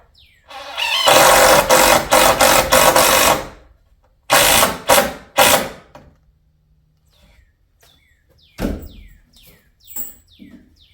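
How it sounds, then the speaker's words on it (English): A ratcheting jack works in loud bursts of rapid clicking and grinding while lifting a second drop beam during a house renovation, followed by quieter scattered clunks and a sharp knock near the end. "And then we'll have to start doing the jacking a little bit to line them up with each other."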